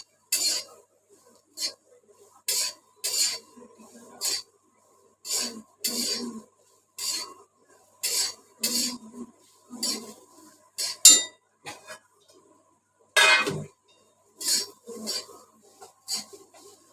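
Okra dry-roasted without oil in a pan over medium heat, stirred with a utensil: a steady series of short scraping, clinking strokes against the pan, close and clear, with quiet gaps between strokes.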